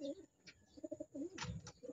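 A pigeon coos close by in soft, low repeated pulses, with faint outdoor rustling and a thin high tone in the background.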